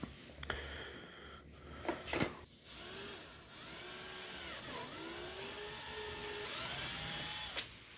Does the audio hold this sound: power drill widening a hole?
yes